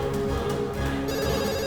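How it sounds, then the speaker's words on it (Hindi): A landline telephone rings steadily and fairly loudly, its electronic ringing filling the moment with no voices over it. "Daddy please pick up the phone."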